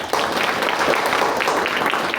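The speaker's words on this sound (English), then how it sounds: "Ladies and gentlemen, please give him a loud applause" A live audience applauds a guest after an introduction at a business talk event, a dense, steady wash of many hands clapping at a fairly loud level throughout, with some voices mixed in.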